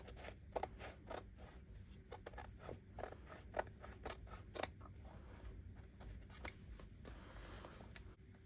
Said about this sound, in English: we're going to cut this and try to get as close as to the thread